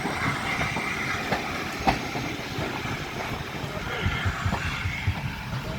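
Tornado, the A1 class 60163 steam locomotive, moves through a station at King's Coach Main Station with a steady low rolling rumble and faint clickety-clack of wheels, plus occasional brief clanks, under a constant hum of the setting.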